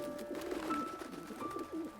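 Cartoon pigeons coo softly in a park, a few low, rolling coos repeating at moderate distance with no talking.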